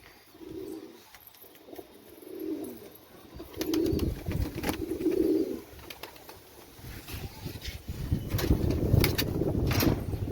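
Pigeons cooing in a loft, several soft low coos in a repeating rhythm close by, followed by a denser rumble of cooing and wing or shuffling noise toward the end.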